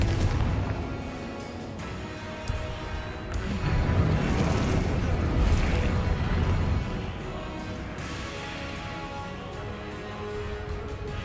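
Confringo fire spells burst with repeated booming explosions in the wizarding game Hogwarts Legacy, set within a steady, noisy combat soundscape.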